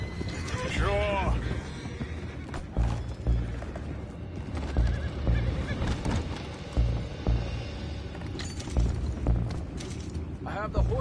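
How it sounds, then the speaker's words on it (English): Horses whinny and neigh several times in a video game amid creaking, clattering mechanical noise, with voices talking over the scene. "I have the horses under control."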